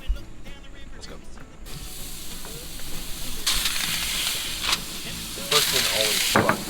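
A beef burger patty is smashed flat onto a hot, clean steel grill, bursting into loud, steady sizzling and hissing that swells in two stronger surges, with faint handling noises beneath.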